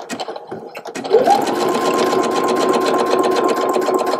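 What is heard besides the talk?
sewing machine zigzag stitching with twin needle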